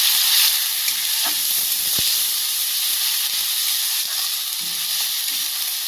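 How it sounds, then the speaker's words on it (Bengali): Onion and green chili paste fries in a pan, making a steady, close hissing sizzle with faint, occasional stirring scrapes beneath it and no talking. "আবারও ভালো করে নাড়াচাড়া করে ভেজে নেব।"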